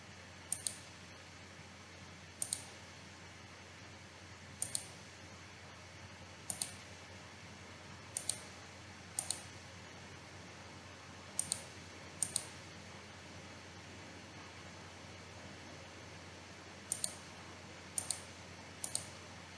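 A computer mouse clicks sharply during CAD sketching in Fusion 360, singles and quick doubles spaced irregularly over a quiet room hum, close and crisp, with no voice.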